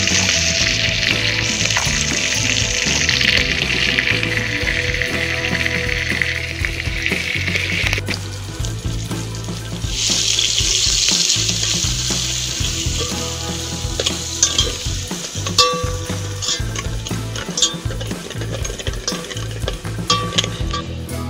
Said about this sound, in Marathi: मस्त गरमागरम कुरकुरीत भजी तळणं चालू आहे.